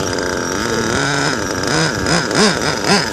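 A nitro RC car engine with a Novarossi carburetor, an LRP .32 fitted to an XTM truggy, idles close by with a warbling, pulsing buzz that rises and falls without any talk.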